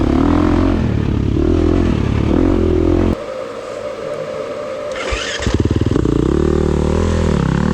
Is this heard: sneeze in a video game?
no